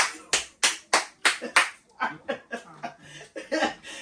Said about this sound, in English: Give him a round of applause to the show.